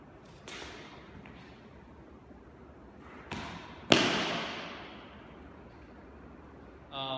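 An Italian three-ring rapier with a 38-inch blade cuts the air during a fencing form, giving a few quick whooshes and one sharp, louder swish that fades, with quiet gaps between the strokes.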